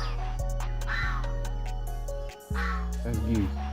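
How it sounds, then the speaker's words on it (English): Geese calling outdoors in a yard with fruit trees, loud honking quacks rising in bursts over a steady low hum, close by and without talk. "Y'all hear them geese?"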